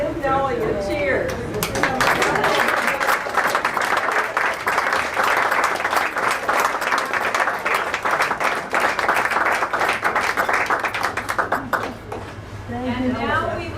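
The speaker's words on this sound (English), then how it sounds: "stand up and give Nellie a cheer." A birthday party audience claps and cheers for a woman's 70th birthday, dense sustained applause rising quickly and filling about ten seconds before tapering off, with someone speaking briefly before and after.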